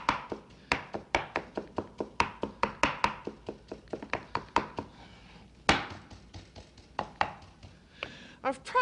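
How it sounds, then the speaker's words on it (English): Spinach being chopped with a stainless steel knife on a board: a steady run of sharp, close thunks at a brisk rhythm, a short pause, then more chops, with no talk over them. "I chop with a stainless steel knife"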